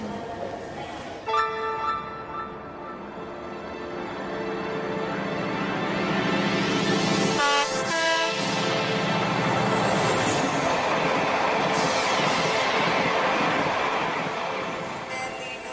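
A train departs from a station, a continuous loud rumble and whine swelling and holding steady with a few bell-like tones, with no talk over it.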